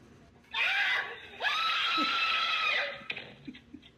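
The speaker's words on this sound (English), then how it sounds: "that's a proper death scream" Person screaming in a TikTok clip: two long, shrill, sustained screams, the second longer, followed by a few faint chuckles.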